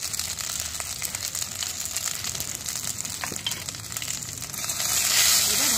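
Kharkol leaf paste with salt and turmeric frying in a pan, a steady close sizzle and crackle that swells louder near the end, with no talking.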